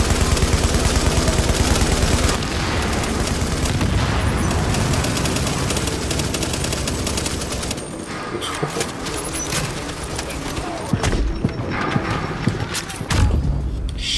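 Gunfire rattles in the video game The Division as dense, continuous bursts with overlapping shots and loud effects, fairly constant throughout and busier toward the end.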